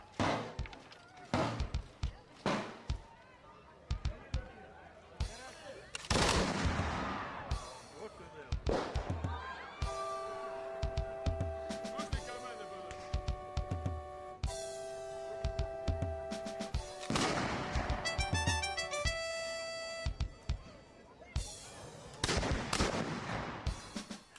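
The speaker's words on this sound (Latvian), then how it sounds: "Livonijas ordeņa pils pakājē dun lielgabalu zalves" Cannon salvos boom at the foot of the Livonian Order castle in Alūksne during a reenactment battle, with repeated loud broadband blasts spread across the scene and brass-like tones and crowd noise in between.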